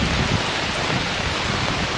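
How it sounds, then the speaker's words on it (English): Steady heavy rainstorm hissing down in a garden, heard from under an awning, a dense, even wash of noise up close with no talking. "sitting outside during the rainstorm"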